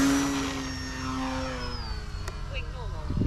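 An E-flite Turbo Timber Evolution RC plane's electric motor whines steadily and then shifts pitch as the aircraft slows into a hover, with a voice talking over the buzzing drone.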